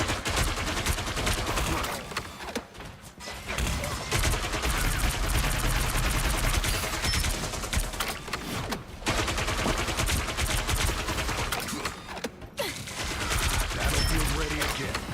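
Dense, sustained gunfire and explosive bursts from a Marvel Rivals match, loud and nearly continuous with brief lulls, mixed with game effects and faint voices.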